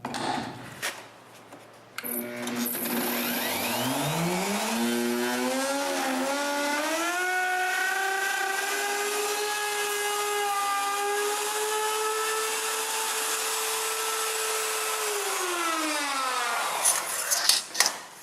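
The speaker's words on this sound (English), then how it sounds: "I can route away the box's holes." A handheld router cuts out the electrical box opening in a wooden shelf, spinning up with a rising whine, holding a loud steady scream for about ten seconds, then winding down before clattering stops.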